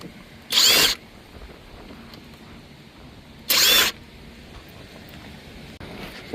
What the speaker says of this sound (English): Since mine's on the left, I'll remove these 3 screws.